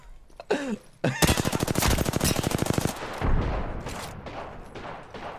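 Rapid automatic gunfire from a video game match: a loud, steady burst of closely spaced shots lasting about two seconds, preceded by a couple of short sharp sounds and followed by a rumbling, noisy tail.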